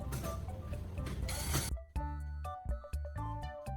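A loud whirring electric drill runs continuously, then gives way to rhythmic mechanical clicking and scraping as a spinning carbon core presses against a metal file.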